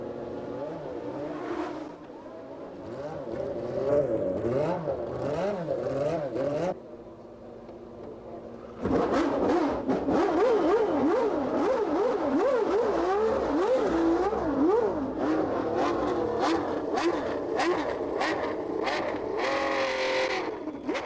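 Nigel Mansell's Ferrari race car heading out first onto the track for practice on qualifying tires, its engine revving loudly with rising and falling pitch as it accelerates and shifts, dipping briefly before roaring on continuously.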